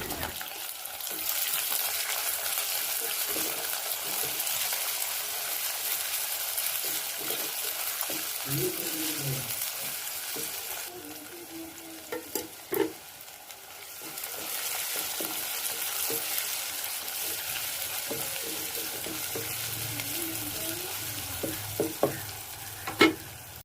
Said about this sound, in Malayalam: അരിഞ്ഞു വെച്ചിരിക്കുന്ന ഇഞ്ചി, പച്ചമുളക്, വെളുത്തുള്ളി, ചെറിയ ഉള്ളി എല്ലാം ചേർത്തൊന്ന് വഴറ്റിയെടുക്കാം